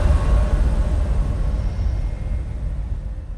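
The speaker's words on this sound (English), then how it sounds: "And then we have a big trailer hit, just massive. And then a lower tail." A massive cinematic trailer hit for an animation sound design, a loud booming impact that rolls into a lower rumbling tail, dense and heavy, fading slowly with no voices.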